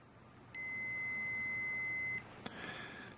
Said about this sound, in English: There was a beep there.